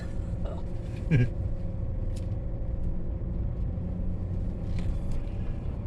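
A car rolls along a road through the Klamath Redwoods and jolts over a couple of potholes, giving a brief thump and rattle over a steady engine and road rumble.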